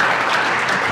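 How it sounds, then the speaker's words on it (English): A quick burst of thick, steady applause from a gathered crowd, many hands clapping loudly and evenly with no pause. "So round of applause for that real quick"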